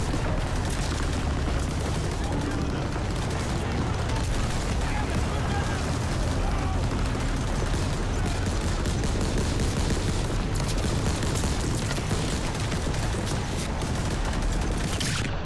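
Continuous dense battle noise in Call of Duty: World War II at the Battle of the Bulge, heavy rolling gunfire and explosions filling the whole stretch, loud throughout with a player's voice talking over it.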